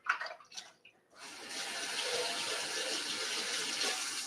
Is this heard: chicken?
no